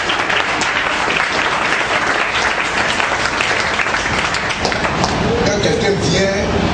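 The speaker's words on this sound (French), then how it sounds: "Acclamons Jésus pour ça." A church congregation bursts into sustained, loud applause in praise of Jesus, dense clapping filling the hall with voices mixed in throughout.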